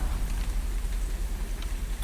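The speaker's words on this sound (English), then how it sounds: "a land lit by moonlight and sodden by rain" Heavy rain pours down in the moonlit virtual-reality game République VR, a constant dense patter over a low rumbling undertone, with a sharper drop hitting at the very end.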